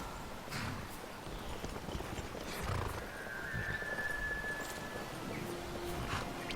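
Horses in a Skyrim survival playthrough whinny and clip-clop along a path, the hoofbeats soft and fairly distant under a low ambient wash with a brief high neigh in the middle, no talking.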